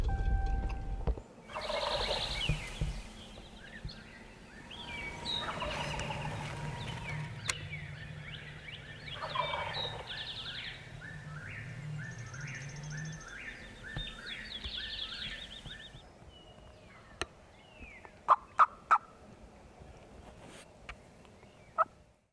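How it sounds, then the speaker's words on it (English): Distant wild turkeys gobbling in repeated rattling bursts on a wooded ridge in the morning, with songbirds calling around them and a few sharp taps near the end. "They're gobbling decent, so we're still hopeful."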